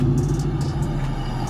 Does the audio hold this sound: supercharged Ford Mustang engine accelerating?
yes